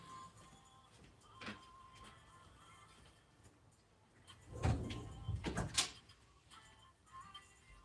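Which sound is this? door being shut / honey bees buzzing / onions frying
door being shut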